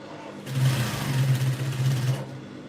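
A sewing machine motor hums in short uneven bursts while stitching around a peplum on a princess bustier blouse, close and fairly loud, lasting under two seconds.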